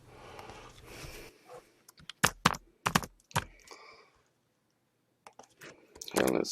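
Keys clatter on a computer keyboard as a recipient's name is typed, irregular bursts of sharp close clicks with short pauses and a quiet gap, ending in a louder flurry of keystrokes.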